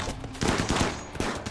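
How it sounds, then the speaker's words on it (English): Rapid gunfire rings out while colonists shoot at approaching zombies in the modded colony game Rimworld, a quick burst of several close, punchy shots over a couple of seconds. "We can start shooting them now."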